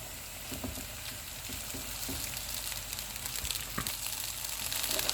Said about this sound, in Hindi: इनको हम 1 मिनट तक फ्राई करेंगे। अब इसमें चावल डाल देंगे